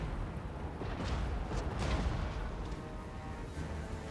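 Artillery cannons fire in a Total War: Warhammer 3 battle, a dense rumbling barrage of booms and crackling impacts rolling steadily under the game's ambient noise, with no talking.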